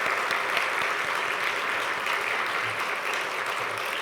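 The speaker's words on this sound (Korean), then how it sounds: "우리 그분들에게 정말 애썼다고 하나님께도 감사의 박수를 한 번 더 드리면 좋겠습니다." Dense, steady applause from a church congregation at a Wednesday evening prayer service, sustained throughout and filling the space at an even level.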